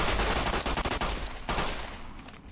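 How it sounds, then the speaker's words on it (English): Rapid automatic gunfire from Fallout: New Vegas rattles in a dense, loud burst of overlapping shots that fades slightly toward the end. "Why are you still shooting at me?"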